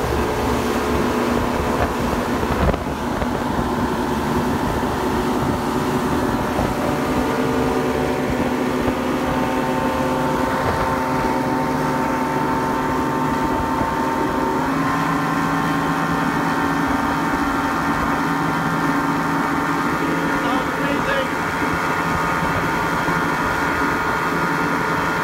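A motorboat with a newly replaced outboard motor runs at full throttle out on the water, a loud, steady engine drone with a rich harmonic hum and rushing wind that holds unbroken throughout.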